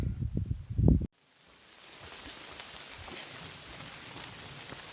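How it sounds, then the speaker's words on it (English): Steady rain patters down during a thunderstorm at a campsite near a summit on the Appalachian Trail, following a second of loud close rustling, then a constant even hiss with no talk. "it's raining and thundering and a little bit of lightning"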